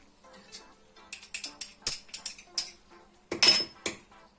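A dessert spoon clinks repeatedly against a bowl or cup while a spoonful of cocoa and cinnamon is added to a quick homemade pudding. The taps come in irregular bursts, close and fairly bright.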